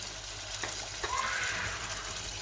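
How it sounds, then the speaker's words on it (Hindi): Chickpeas and spices frying in a pot for chana pulao, a soft steady sizzle with faint stirring scrapes, quiet and close. "थोड़ा सा भून लेंगे चनों को।"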